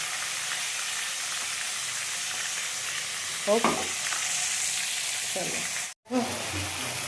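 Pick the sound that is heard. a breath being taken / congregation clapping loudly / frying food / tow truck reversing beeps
frying food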